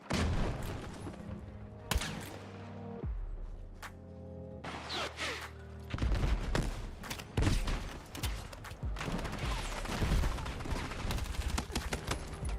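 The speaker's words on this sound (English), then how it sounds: "The guy up in this building up here, he was shooting at me." Battlefield 6 battle royale gunfire, bursts of shots and impacts with whooshes, sometimes sparse and sometimes dense rapid volleys, mixed with game effects.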